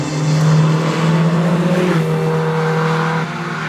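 A 1967 Renault 8 driving, its engine giving a steady droning hum that holds, dips slightly, then eases off near the end, close and loud inside or beside the car, no talking.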